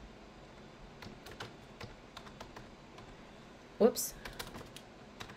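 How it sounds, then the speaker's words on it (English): Light typing on a computer keyboard, scattered soft key taps at close range with a brief louder clatter and a short spoken exclamation partway through. "So I'm going to go up here and just type in what I wanted to use."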